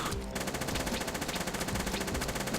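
Heavy assault rifle in the shooter game Hordelicious firing a loud, continuous automatic burst, rapid shots hammering on steadily after a split-second lead-in, with no talking.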